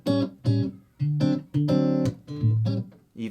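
Warm, clean jazz guitar played through an amplifier, a series of mellow plucked notes and chords with strong low harmonics, each ringing briefly before the next, close and moderately loud with no talking.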